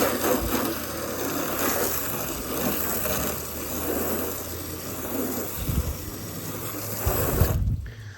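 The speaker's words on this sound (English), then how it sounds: "let's give the hood a good rinse here and see what it looks like" Water from a rinse bucket splashes and runs over a car hood during a wash with Gtechniq GWash V2 shampoo, a steady close wash of spray with a few soft thuds near the end.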